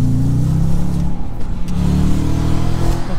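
A tuned Audi S4 with a 4.2 V8 accelerates on the road, its deep engine note rising loud and close with a steady, throaty roar.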